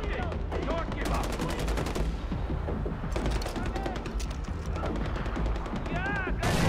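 Gunfire in Far Cry 4 during a North Kyrat firefight: dense, loud automatic rifle bursts and overlapping shots, almost continuous with a short lull in the middle, with voices shouting over the shooting.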